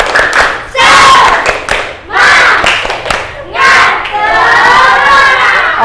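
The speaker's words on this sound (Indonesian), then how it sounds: "Yo, tepuk semangat." A school class claps together in spirited rhythmic patterns, loud and close, with bursts of children chanting and shouting along between the claps.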